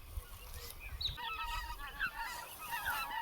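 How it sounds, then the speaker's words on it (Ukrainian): A flock of geese honks repeatedly overhead during a pike-fishing trip, a chorus of scattered, fairly distant calls over a low background rumble. "Гуси полетіли."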